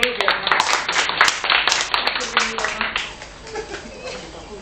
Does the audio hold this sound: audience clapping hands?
yes